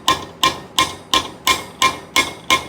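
Seven evenly spaced hammer blows peen over a rivet on the cutter bar of a Massey Ferguson 41/31 sickle bar mower, sharp metallic strikes in a steady rhythm, close and loud.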